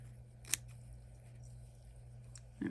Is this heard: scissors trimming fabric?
yes